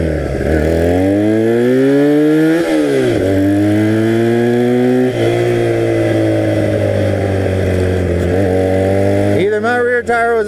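A 1982 Honda 250cc flat track motorcycle cruises in high gear, its engine droning loud and close as the pitch climbs, dips between gear changes and rises again, with a voice briefly at the end.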